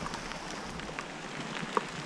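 Rain pours steadily at a campsite, a dense, close patter on surfaces with one brief sharper drip or tap near the end and no talking.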